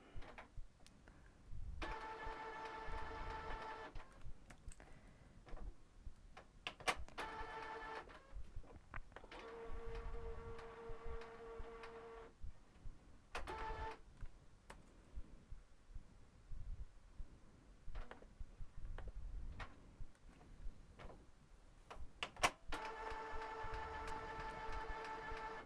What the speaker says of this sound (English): And noisy printers being noisy.